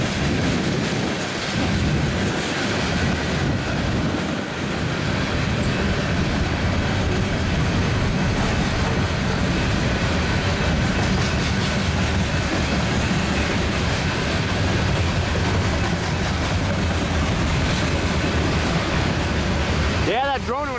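A freight train with Conrail gondolas and boxcars rolls past close by, a continuous heavy rumble and clatter of wheels that fills the whole stretch without a break.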